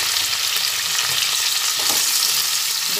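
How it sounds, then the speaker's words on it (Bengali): Capsicum and onion frying in a pan, a dense close hiss of sizzling oil that holds steady and loud throughout, with faint stirring underneath. "ক্যাপসিকাম পেঁয়াজগুলো দিয়ে ভেজে নিলাম।"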